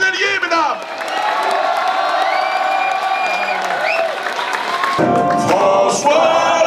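A large crowd claps and cheers continuously, with whoops and shouts rising over the applause, loud and close.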